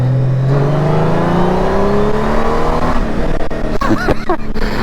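Honda Gold Wing motorcycle accelerating hard, the engine note climbing steadily in pitch as it pulls, loud and close, with wind and road noise building toward the end.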